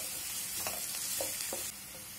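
Finely chopped onions, two large ones, fry in a pan with a soft, even sizzle and a few light stirring scrapes, fairly quiet throughout.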